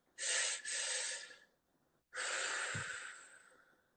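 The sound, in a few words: breathing during meditation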